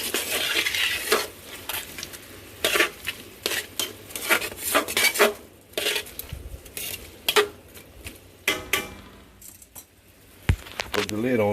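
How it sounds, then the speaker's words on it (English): Metal utensil scraping and clinking against a pan as onions and jalapenos are stirred in grease, irregular close clatters and scrapes with a person speaking intermittently. "And you spread the onions as much as possible. Mix them in that grease."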